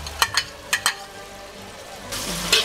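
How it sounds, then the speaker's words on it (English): Eggplant frying in a pan in a cooking-school kitchen gives a steady sizzle, with a few sharp stirring clacks early on and a louder burst of frying near the end. "we need some time to fry the eggplant to make the paste that goes inside"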